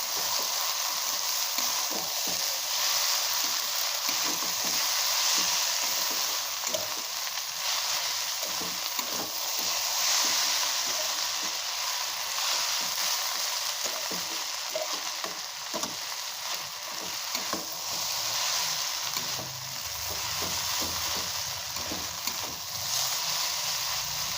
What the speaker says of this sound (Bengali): ভালো করে আলু ফুটে দিয়ে মিশিয়ে নেবো